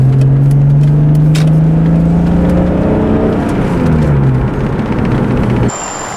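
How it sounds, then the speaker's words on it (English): A BMW E46 engine drones loudly from inside the cabin, its pitch rising steadily as it accelerates, then easing back near the end. "The car is driving really good."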